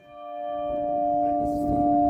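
Bells ring in the tower of the San Bernardino church, their bronze dating from 1790, with a sustained, sonorous tone that swells and rings on loudly up close.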